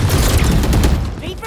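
A KAY/O flashbang going off during a Valorant round, a loud, dense blast of booming, crackling game effects with gunfire-like texture that fades slightly toward the end.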